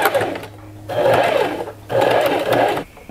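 A sewing machine topstitches a pet collar in two loud, close bursts of rapid stitching. A short pause separates them, and no one talks.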